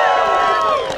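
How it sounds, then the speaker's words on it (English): At an Oklahoma City Prop 8 protest rally, a large crowd cheers and shouts with clapping underneath, a loud, sustained burst of voices that tapers slightly at the close. "Everybody, round of applause for Pam."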